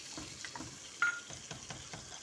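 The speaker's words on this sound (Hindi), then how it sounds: "अब हम इसकी अच्छी तरह से भुनाई करेंगे" Goat kidneys fry in a pan with spices and tomato paste, giving a soft, steady sizzle broken by gentle stirring scrapes and one sharper clink.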